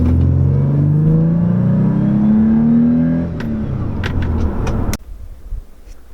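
Toyota 4Runner from 2000, third generation, with a deckplate airbox intake mod, idles then rises in a smooth revving pull as it drives out of a driveway, close and loud, easing off before the engine note cuts away.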